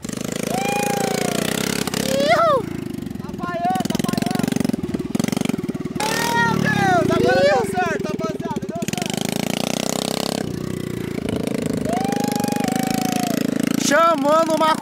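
A mini quad bike's small engine drones and revs steadily in the foreground, rising and falling as it accelerates, while several people shout and talk excitedly over it.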